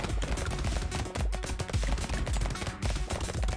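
Two submachine guns fire continuously in the top-down arena game Brotato, with a dense run of rapid, close shots and small impacts over steady background game music.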